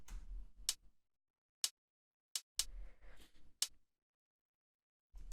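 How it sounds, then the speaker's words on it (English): Sparse crisp hi-hat hits from a minimal house track, short bright ticks spaced unevenly and played alone, some with brief low thuds beneath. "The next sound that we have here is this other hi-hat"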